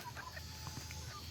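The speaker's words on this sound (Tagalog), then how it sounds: "Nandito na naman yung mga manok, oh. Sunod ng sunod." Chickens on a rural Philippine farm cluck softly around a person, faint brief calls scattered over steady low background noise.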